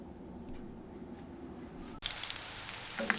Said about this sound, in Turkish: Köftelerimi alt üst nar gibi kızartıyorum.